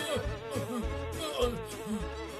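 Bees buzzing in a children's cartoon, a continuous droning hum with wavering pitch from several insects, steady and close throughout.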